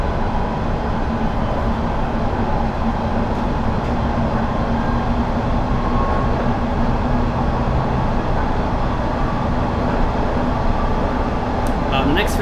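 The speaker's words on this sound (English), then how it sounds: "We have just over 15 miles to go towards Baker Street, so quite a long journey actually," Metropolitan Line London Underground train running in the Train Simulator 2020 game, a steady, loud rumbling drone of motors and wheels that runs throughout the clip with no clear breaks.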